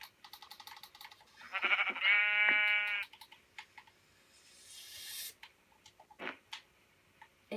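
A sheep in a blocky crafting video game bleats once, loud and close, among scattered clicks and short game effects. Softer bursts follow, then quiet.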